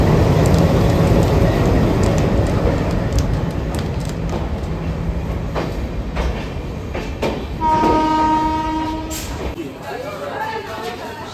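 An Indian Railways train at Malda Town station rumbles loudly with wheel clatter, then a sustained horn blast sounds near the end; people talk in the background.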